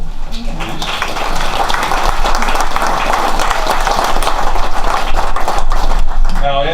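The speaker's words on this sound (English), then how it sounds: "Round of applause for him, please." An audience at a maple hall of fame induction ceremony applauds an inductee with sustained, loud clapping that holds steady for several seconds.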